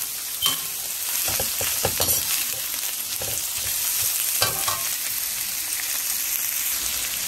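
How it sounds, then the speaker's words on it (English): Egg fries in hot oil for Guyanese egg fried rice, a loud, steady sizzle and crackle close up with brief spatters and stirring, no voices. "I let it fry up a little, not too much and not too long"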